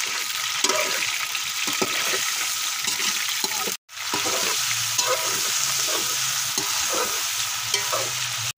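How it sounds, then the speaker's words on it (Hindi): Chicken frying in hot ghee for a bhindi keema dish, a steady loud sizzle with stirring scrapes, broken by a brief silent gap midway, then continuing with a low hum beneath. "सबसे पहले हम चिकन फ्राई करेंगे।"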